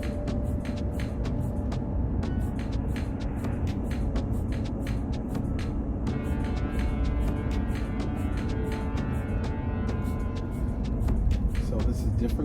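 A car drives along a suburban road on Long Island, producing a steady, even road and engine rumble throughout with faint ticking and rattling sounds inside the cabin.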